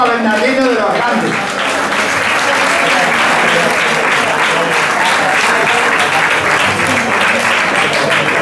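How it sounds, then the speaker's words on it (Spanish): A banquet crowd at a restaurant dinner of a historic vehicle club bursts into loud, sustained clapping that keeps going, close and dense, after a voice is heard at the start. "Un aplauso para Bernardino de los Grandes"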